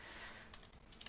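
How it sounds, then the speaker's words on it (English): Short burst of typing on a computer keyboard, a few light, close clicks clustered in the second half over a quiet steady background hum, with no voices. "So I don't have a lot of VIs, so I'll just type that one in."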